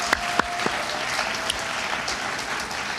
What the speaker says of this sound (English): A round of applause for those folks.